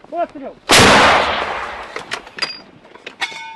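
A single loud blast from an L119 howitzer booms out, followed by a long rolling echo that fades over a few seconds, with faint voices around it.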